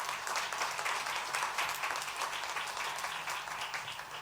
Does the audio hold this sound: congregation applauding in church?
yes